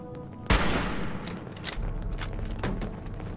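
A loud burst of gunfire in the Fallout 76 game, with a sharp close shot followed by a rolling volley of cracks and thuds over several seconds, no talk.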